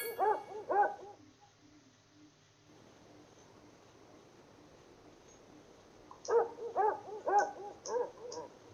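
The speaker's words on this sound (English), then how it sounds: "There's always a dog barking, isn't there?" Dog barking in the video game Persona 3 FES: a few quick barks at the start, a quiet stretch, then another burst of several barks, moderately loud with no voices.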